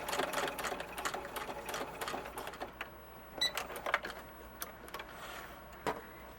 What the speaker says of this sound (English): So then we'll back tack.